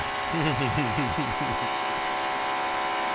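A NASCAR stock car at full throttle during practice at the GEICO 500 in 2018, its engine whining with rising and falling Doppler sweeps as it passes, over a steady broadcast bed with commentary voices.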